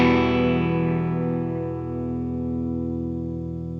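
Electric guitar re-amped through a dedicated reamp box, a single bright chord struck loud and left to ring, decaying slowly with a sustained tail and no other sounds.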